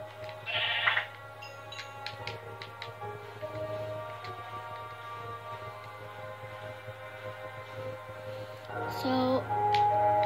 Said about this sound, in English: So let me get up here to kill some sheep.